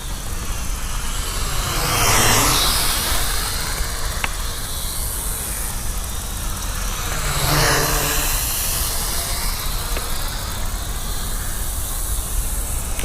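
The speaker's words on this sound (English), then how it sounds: "I'm just pressing these little brushed motors" Brushed motors on an MJX Cyclone X708 drone running at full power give a loud, continuous high-pitched whine with hissing air, rising and falling in pitch as the drone swoops past twice, with no talking.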